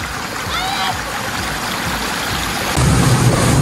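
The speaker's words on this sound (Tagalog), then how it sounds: "Yan, naulan! Naulan! Lakas ulan!" Steady, dense rush of heavy rain pouring down at a spring resort in Tayabas, growing louder toward the end, with a faint voice briefly audible in the background.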